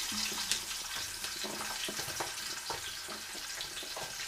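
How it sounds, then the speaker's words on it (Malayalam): Sliced onions tipped into hot oil with frying ginger and garlic for a homestyle Kerala chicken curry, giving a steady, moderately quiet crackling sizzle with faint stirring clicks throughout. "ഇനി ഞാൻ ആദ്യം ഇട്ട് കൊടുക്കാൻ പോകുന്ന ഉള്ളിയാണ്. അതുകൊണ്ട് ഉള്ളി നമുക്ക് ഇതിലേക്ക് ഇട്ട് കൊടുക്കാം."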